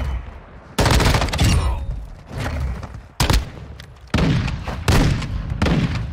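Unmodified M13B rifle fire in Modern Warfare 2 comes as loud, close bursts of rapid automatic shots, several separate volleys with short pauses between them and no talking.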